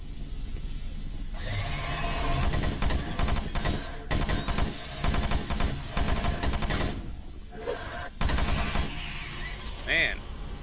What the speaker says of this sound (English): Aha! I got a machine gun.